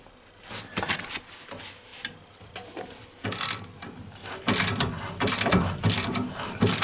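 A ratchet fitted with a cheater pipe loosens a shock bolt on a GMC Sierra. Sharp clicking bursts come in uneven runs with pauses between them, close by.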